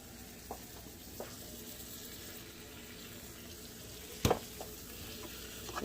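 Food frying steadily in a pan with salt and pepper, a constant soft sizzle broken by a few sharp utensil clinks, with no voices.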